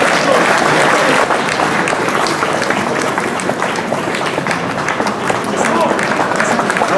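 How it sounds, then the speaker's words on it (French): Applause at the closing ceremony of Nancy 2013, a large crowd clapping loudly and continuously for seven seconds, dense and steady. "Donc des applaudissements pour Hélène pour la remercier de tout ce qu'elle a fait."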